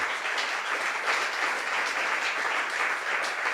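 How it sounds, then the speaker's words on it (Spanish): A church congregation claps together in a continuous, even burst of applause, a dense wash of hands that stays steady from start to finish, moderately loud and free of speech. "Deme un aplauso al Señor"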